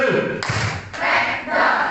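Rhythmic hand clapping from a class group doing a counted clapping exercise, several claps blending into a loud, dense burst with voices mixed in.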